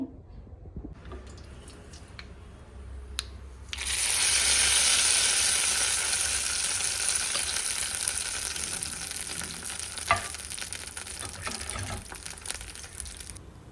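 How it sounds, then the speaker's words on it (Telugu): Hot oil tempering for a chutney bursts into a loud sizzle partway through, a sharp hissing crackle that starts suddenly and then slowly settles, with faint kitchen clatter before it. "ఇక్కడైతే చట్నీకి తాలింపు వేసుకున్నానండి"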